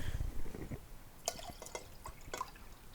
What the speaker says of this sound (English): We'll go ahead and dump this water.